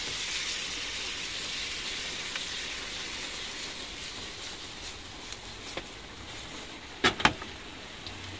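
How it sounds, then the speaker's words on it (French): Minced meat browns inside an Omnia stovetop oven for a hachis parmentier, giving a continuous, even, rain-like sizzling hiss. A few sharp clicks and clatters break through near the end. "Je vais juste faire revenir ma viande à l'intérieur, elle est vraiment crue"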